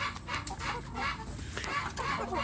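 Free-range village chicks cheep in short, repeated high peeps, faint and busy over a low background hum.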